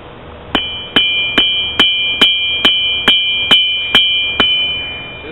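Steel being hammered into a point for a small axe made from an old hammer: ten evenly spaced, ringing metallic blows at close range, each leaving a bright, sustained tone, with no talking.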